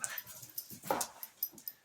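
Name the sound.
boxer dog whimpering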